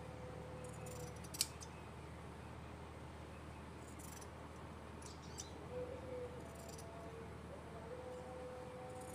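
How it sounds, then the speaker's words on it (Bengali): Scissors cut a strip of cloth from the side to make narrow rope, giving a few faint, sharp snips spaced seconds apart in a quiet room. "সাইড থেকে এই যে কাপড়গুলোকে একটু করে কেটে বাদ দিয়ে দিতে পারেন"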